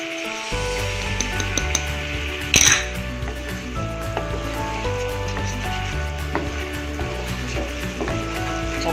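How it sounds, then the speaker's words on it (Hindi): Macaroni being stirred with a spoon in a pan over a low flame, with a steady soft sizzle, repeated light scraping and clinks against the pan, and music playing underneath. "चम्मच को हिलाते जाएं।"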